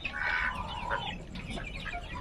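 Chickens on an Aseel farm cluck and call steadily at moderate distance, a continuous layer of bird noise with no one speaking.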